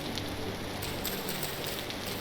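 Steady rain in the video game Vintage Story patters densely and evenly on surfaces, a continuous hiss with no voices.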